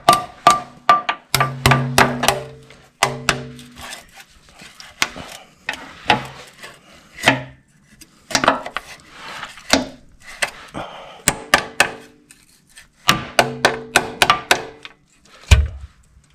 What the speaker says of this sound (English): using the hammer and the chisel, just put it right out